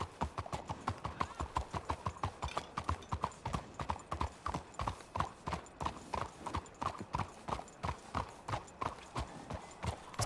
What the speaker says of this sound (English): there's 3 or 4 horses out front